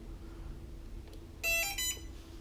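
A short series of high electronic beeps from an electric skateboard remote rings out briefly over a low steady hum, then fades.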